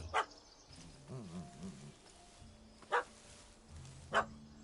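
A puppy barks at a cat up a tree in The Witcher 3 game: a few sharp, separate barks spaced over several seconds, mixed with whimpering, yippy sounds and some quiet background game noise.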